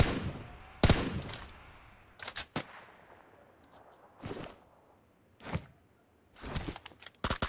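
Gunfire in a battle-royale style shooting video game, heard as scattered sharp shots and short bursts at varying distances, loud cracks separated by quieter gaps with no talking.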